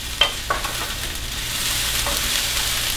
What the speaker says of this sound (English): I'm going to stir my onions because they are asking for it.